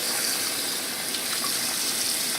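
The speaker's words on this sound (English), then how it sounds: "I'm gonna run some cold water." Cold water runs from a kitchen sink tap in a steady, close, full rushing stream with no pauses.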